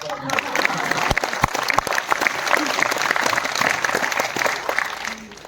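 A theatre audience at a stage play claps steadily, a sustained crowd of hands with sharper individual claps standing out, fading slightly toward the end; a voice briefly murmurs underneath.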